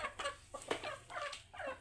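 A rooster clucks several times in quick, uneven bursts, close and clear, with no one talking.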